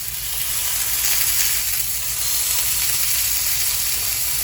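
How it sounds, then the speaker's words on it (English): Meat sears in a hot pan with a loud, steady, crackling sizzle, close and continuous, with no voices. "I'm gonna sear this for about like 5 minutes."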